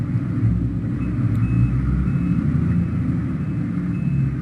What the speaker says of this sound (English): Backup truck.